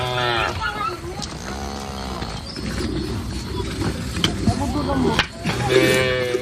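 Cattle low and moo repeatedly amid a lively Himba herd being milked, with people's voices and farmyard bustle mixed in.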